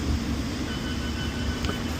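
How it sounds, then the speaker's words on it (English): A London Underground Circle line train at a Hammersmith platform, a steady low rumble and hum of the train filling the whole stretch at moderate level, with no talking. "I think this is a Circle line train, it says, via Paddington."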